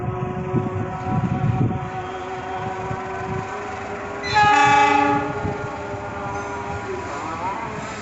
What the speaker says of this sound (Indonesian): Dari arah timur nampak kereta api jarak jauh.